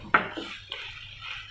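A spoon stirring curry leaves and vegetables in a pan for a cauliflower potato curry, with a sharp metallic clink followed by a few softer scraping knocks in an otherwise quiet kitchen.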